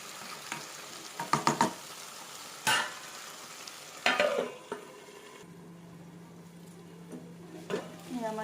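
Chili chicken frying in a pan, with a steady low sizzle broken by several sharp clatters of a spoon stirring against the pan, and a voice talking over it.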